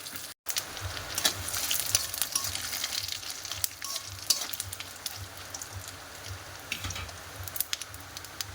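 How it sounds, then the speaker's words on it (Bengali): Dried red chillies, five-spice seeds and bay leaves crackle in a hot wok for a large batch of sweet, sour and spicy raw mango pickle, with a steady close sizzle and occasional stirring clatter. "কয়েকটা তেজপাতাও দিয়ে দিলাম"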